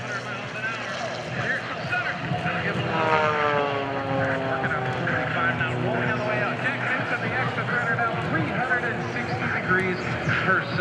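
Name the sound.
MXS aerobatic propeller plane flying at an airshow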